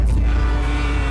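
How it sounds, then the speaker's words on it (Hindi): Cars pass outside in street traffic, heard as a continuous low rumble that stays steady and close throughout, with no voices. "अरे बाहर गाड़ियाँ चल रही है तो ट्रैफिक की आवाज आ रही है।"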